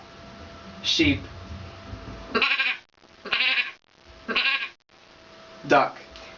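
A woman mimics a sheep bleating, giving a short opening call followed by four rhythmic nasal bleats spaced about a second apart, close and fairly clear.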